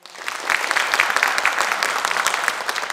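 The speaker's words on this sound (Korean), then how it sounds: "큰 박수 부탁드리겠습니다" Audience applause at a Korean science talk on AI, welcoming a lecturer to the stage; dense, steady clapping from a large seated crowd that swells in quickly and holds for about three seconds without any voices.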